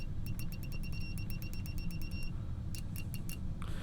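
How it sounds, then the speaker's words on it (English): A TekPower TP8250 multimeter's continuity buzzer sounds rapid high-pitched electronic beeps in quick bursts over a steady low hum, pausing briefly before a few more chirps. "The meter also has a continuity test and a nice loud buzzer"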